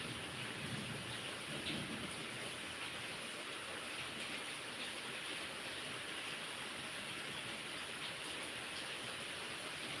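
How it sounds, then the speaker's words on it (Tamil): Steady heavy rain falls through a thunderstorm, a dense, even hiss with a faint low rumble of thunder early on and no voices. "மழை பெஞ்சிட்ருக்கு"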